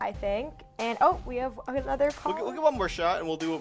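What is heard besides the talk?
No everyday noise stands out behind the speech.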